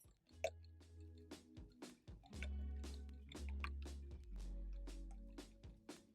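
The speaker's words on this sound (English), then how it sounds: "Break the yolks and whisk for around 30 seconds" Eggs for a Spanish omelette are beaten in a bowl with a whisk, giving quick, regular clicking and wet squishing strokes close by, running steadily through the whole stretch.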